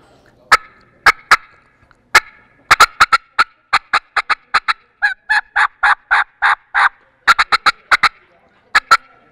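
Turkey call worked to mimic an excited hen's yelping, sharp clucks building into quick runs of loud, close, rhythmic yelps with brief pauses between bursts, no talking.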